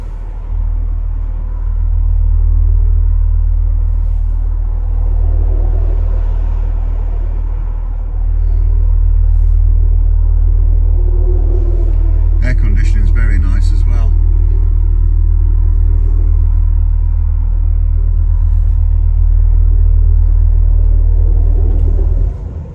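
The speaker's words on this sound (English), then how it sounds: "You've got that lovely 3-litre diesel that just eases to up to speed." A 2016 Audi A6 Avant 3.0 litre TDI Quattro diesel accelerates with a steady, deep cabin rumble and engine drone that holds throughout. A brief rattling clatter comes midway, and no talking is heard.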